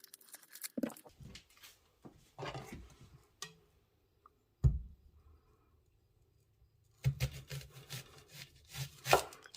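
An onion being cut into quarter-inch pieces on a cutting board gives sparse knife chops and thuds, a few quick strikes clustered at the start and end with quiet pauses between.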